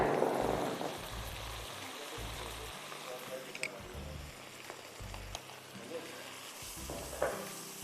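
Chicken, vegetables, boiled rice and spaghetti being stir-fried together in a pan for Singaporean rice, giving a steady close sizzle with irregular scraping stir strokes, partly under intermittent talk.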